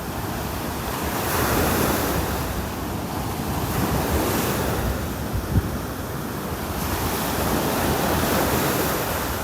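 Rough ocean surf breaks on a beach in North Naples, Florida, a loud, continuous wash of waves with heavy wind buffeting the microphone and slow swells rising and falling.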